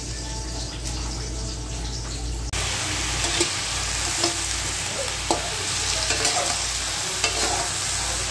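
Pork feet and meat for adobo sauté in a pan with a steady sizzle, punctuated by repeated scraping stirs of a utensil, close and loud, with no talk.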